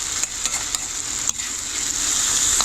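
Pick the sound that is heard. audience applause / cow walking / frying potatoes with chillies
frying potatoes with chillies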